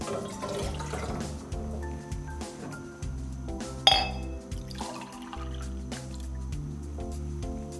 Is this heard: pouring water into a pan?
yes